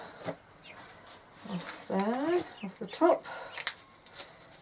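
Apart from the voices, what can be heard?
baby chicks and chickens clucking in a greenhouse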